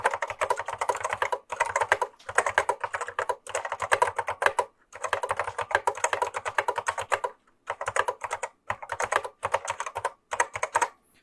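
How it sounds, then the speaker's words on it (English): Keys clack rapidly in bursts of typing on a vintage Apple keyboard, close up, broken by short pauses between runs. "This keyboard is pretty nice to type on, actually."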